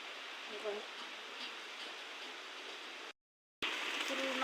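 Heavy rain pours down in a cloudburst, with water pooling around the house: a steady, dense hiss that cuts out briefly near the end before resuming just as strongly.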